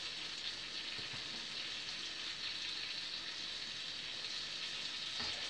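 Flatbread sizzles and fries steadily in a hot pan, a dense, even crackling hiss that holds close and constant throughout, with a brief knock near the end.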